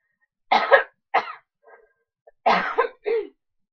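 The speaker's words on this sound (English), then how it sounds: "I apologize for my coughing." A person coughs several times in short, harsh bursts, pausing briefly between groups, close and clear against silence.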